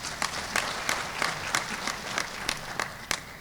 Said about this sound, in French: Madame Sanogo Aminata Malé, que je vous prie d'applaudir.